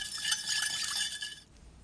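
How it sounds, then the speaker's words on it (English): Sugar, pepper flakes and lime juice dressing being stirred together in a bowl for a Thai spicy grilled beef salad, a steady bright clinking and scraping for about a second and a half, then quiet. "Mix everything well."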